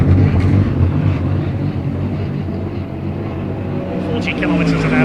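Aston Martin Vulcan race car pulling away down the pit lane at Silverstone, a loud sustained engine drone with rumbling low tones, steady throughout, with a rising whine near the end and crowd or commentary noise underneath.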